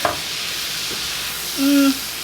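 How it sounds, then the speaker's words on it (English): Flour frying in a pan with fresh thyme for a cottage pie gives a steady low hiss, and near the end a brief, louder tonal sizzle or scrape rises for about a third of a second. No one talks. "I'm going to add in my flour. I'm going to let this cook"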